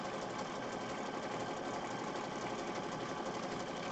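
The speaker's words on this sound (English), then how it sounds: "Just stitch on the page." A sewing machine stitches directly onto a paper page, a steady, dense mechanical whirr that runs unbroken for the whole span at moderate loudness.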